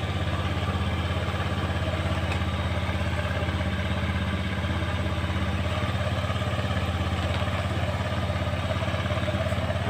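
A Honda Beat scooter engine idles steadily, with a continuous low, even putter and faint mechanical clatter at close range and no talking.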